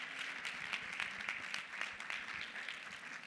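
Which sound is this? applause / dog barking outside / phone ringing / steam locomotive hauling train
applause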